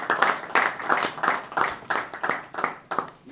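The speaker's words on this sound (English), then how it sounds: "A louder applause." An audience at an Igbo elders' political gathering claps and applauds in rhythmic bursts, moderately loud and sustained, with faint voices underneath.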